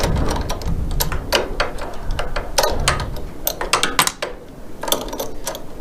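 Wrench working a nut on the steering track rod of a Tillotson T4 Mini go-kart, giving a run of close, rapid metallic ratchet clicks in short bursts with brief pauses.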